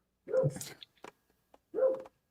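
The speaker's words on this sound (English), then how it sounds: "Whose dog is barking?" Two short, sharp dog barks a moment apart, fairly quiet and close, with small noises in between.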